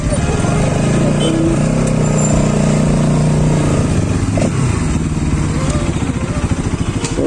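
A Bajaj NS 200 BS7 motorcycle running close by with its engine droning and revving as it rides through Guwahati, while someone talks over it.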